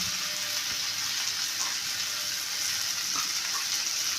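Banana flower and prawns fry in ghee while being stirred, giving a steady, dense sizzle with soft scraping from the stirring throughout.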